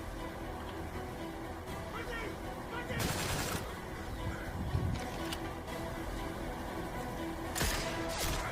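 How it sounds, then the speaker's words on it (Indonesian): Gunfire bursts in a film scene as police shoot a terrorist in Jakarta, with sharp cracks around the third and eighth seconds over a steady noisy background. "pasukan kepolisian menembak dan melumpuhkan teroris"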